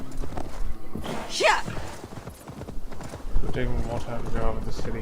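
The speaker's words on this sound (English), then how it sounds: "riding on my horse in a straight line" Horse hooves clip-clop at a steady riding pace in Assassin's Creed Valhalla, with a brief whinny partway through, while someone talks over the hoofbeats.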